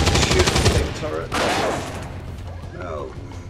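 Gunfire rattles at a turret in the video game XCom 2, with rapid bursts of shots up front and another volley midway, while a voice talks over the action.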